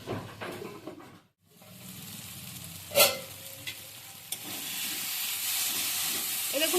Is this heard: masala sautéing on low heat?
yes